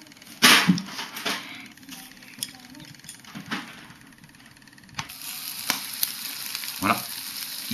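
Chicken wing gyoza stuffed with dumpling filling fry in a hot pan, giving a steady close sizzle and crackle with a few louder bursts of spattering throughout.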